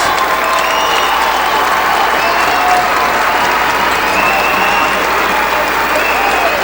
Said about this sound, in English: It's a nice hand from the crowd.